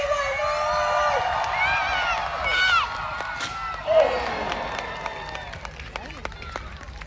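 Crowd cheering at a jousting tournament at Hampton Court Palace, a broad swell of voices and whoops rising early then fading, with shouts and talk mixed in throughout.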